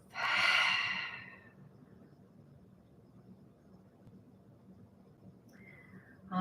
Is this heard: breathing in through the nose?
yes